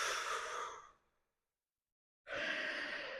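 A long, soft exhaled breath during a yoga forward fold, drawn out for about a second and then trailing off into silence, followed by a second steady breath of similar loudness, close and fairly quiet.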